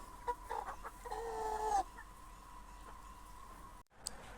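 Newly arrived backyard hens kept by a small family, clucking in a short close burst with a few sharper calls, then settling into quieter background clucks before a brief dropout.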